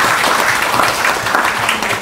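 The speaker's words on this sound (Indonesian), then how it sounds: "Beri tepuk tangan untuk Dinas Kesehatan." Loud, dense applause from an audience of health office employees, a continuous wash of clapping filling the whole moment without a break.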